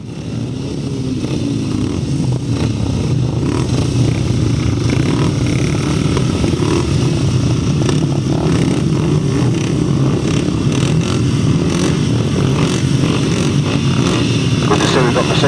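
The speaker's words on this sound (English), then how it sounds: "We should now be moving back to race 11, first heat of the 500 sidecars." 500cc sidecar motorcycle outfits racing at a grasstrack meeting at Tallington in 2007 give a loud, unbroken engine roar lasting the whole stretch, with a voice talking over it.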